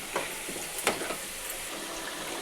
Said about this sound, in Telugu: ఈ ఆయిల్లోనే ఉసిరికాయ అనేది ఉడికిపోతుంది